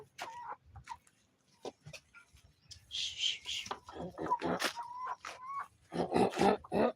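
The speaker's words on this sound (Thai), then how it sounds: "เราจะเอาอาหารให้น้องไก่อ่ะทุกคน" Chickens cluck and squawk near a coop as food is brought out, their calls scattered at first and then growing busier and louder. A voice talks softly among the birds.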